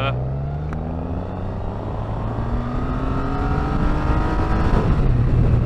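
A Triumph Rocket 3 GT motorcycle accelerates hard in first gear, its engine note climbing steadily and growing louder close to the rider, with wind rush and someone talking over it.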